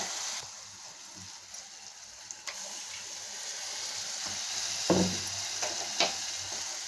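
Garlic chutney in a pan bubbles and sizzles softly and continuously, with a few brief scrapes or stirring taps standing out over the quiet hiss.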